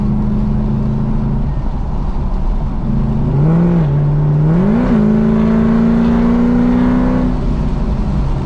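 Car engine heard from inside as it accelerates, a loud steady drone that rises in pitch, drops at a gear change and climbs again before easing off, with no talk.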